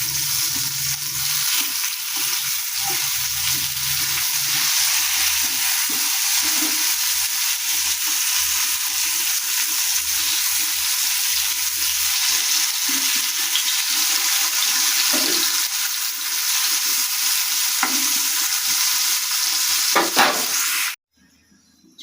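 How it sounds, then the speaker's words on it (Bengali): Pumpkin pieces frying in a pan hiss and sizzle steadily, loud and close, with occasional scrapes of stirring, before the sizzle suddenly cuts off at the end. "দেখুন আমার কুমড়ো ভাজা হয়ে এসছে"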